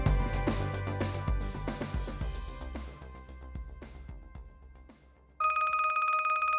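A telephone bell rings loudly and steadily near the end, cutting in abruptly after fading music with no voices.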